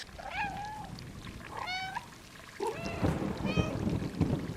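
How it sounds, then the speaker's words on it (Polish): A cat meows three or four times in short, bright calls in the video game Stray, near and clear, over a steady low rumble of background noise. "jest przycisk odpowiedzialny za miauczenie"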